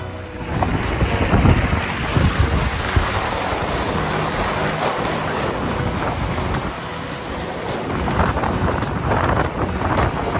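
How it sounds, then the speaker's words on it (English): Strong wind gusting across an open swamp on a winter bikepacking expedition, a loud, continuous roar buffeting the microphone for the whole stretch with no voices. "Little bit of wind."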